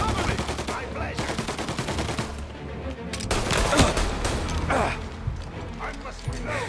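Gunfire in the video game Mafia: Definitive Edition: dense, rapid bursts of shots and mechanical clatter run throughout the scene.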